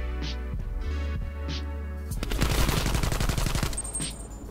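Gunfire in the Call of Duty Black Ops Cold War video game. A steady low hum with soft pulses comes first, then a dense stretch of rapid automatic shots rattles on to the end.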